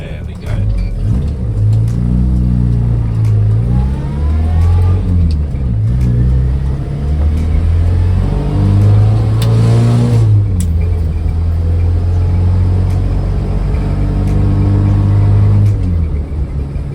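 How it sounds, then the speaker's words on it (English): An old car is driven along, its engine droning low and loud with rising and falling revs as it accelerates and shifts, a continuous close rumble that rattles slightly, with a voice speaking intermittently over it. "I love driving this old car so much"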